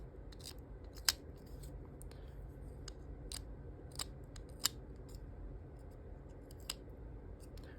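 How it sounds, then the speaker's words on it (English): Small sharp clicks and snips from an X-Acto or safety knife trimming the very edge of a wooden toothpick, a handful of brief scattered cuts over a steady low background hum, close up with no talking. "So I got a safety knife or X-Acto knife, whatever you prefer, and I'm just cutting off the very edge."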